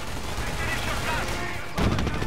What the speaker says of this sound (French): Vous voyez, c'était pas une mitreuse, c'était un mortier.